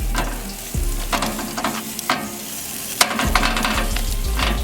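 Sausage sizzles steadily on an old country BBQ pit, with a continuous frying crackle and occasional thumps and scrapes of turning the meat, heard close with no talking.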